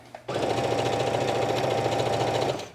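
A sewing machine runs steadily through stretchy yoga pants fabric, a fast close mechanical whir and rapid stitching rattle that starts abruptly, holds evenly for over two seconds, then stops.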